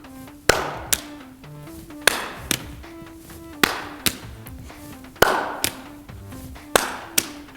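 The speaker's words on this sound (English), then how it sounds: "Let's try adding a clap underneath." Sharp hand claps keep a steady rhythm between throws of LED juggling balls, each clap a crisp close snap followed by a softer catch, repeating about every second and a half with no talk.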